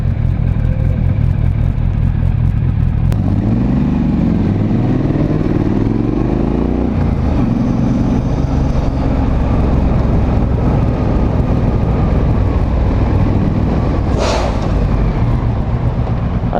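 A Triumph Street Scrambler motorcycle rides on the road, its exhaust a steady loud drone with rising and falling revs under heavy wind rush, plus a brief clatter near the end.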